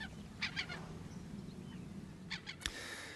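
Geese on Texel in Noord-Holland honk in two short bursts of a few calls each, one near the start and another near the end, over a steady low hum with no talking.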